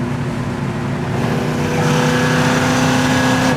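A 1969 Plymouth Roadrunner engine pulls hard and builds in pitch, loud and close with a steady droning roar as it climbs through the revs.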